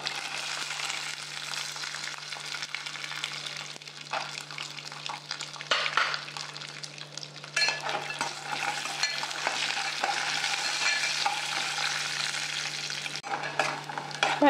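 Peanuts frying in a pan for a peanut coconut curd chutney, with continuous sizzling and crackling and repeated scraping stirs throughout, close and fairly loud with no voices.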